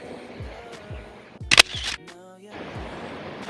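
A camera shutter fires once for a selfie in a chilly hotel lobby in Kobe, Japan, a sharp click sounding above soft background chatter and luggage-area noise.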